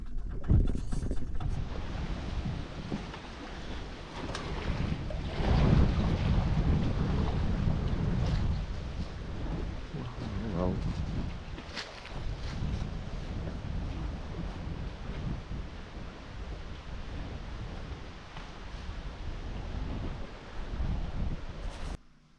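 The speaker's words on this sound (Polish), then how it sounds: "wieje." Wind gusting over a sailing yacht on a lake, a loud, continuous roar and buffeting across the microphone with rushing water beneath, rising and easing in strong waves for the whole stretch.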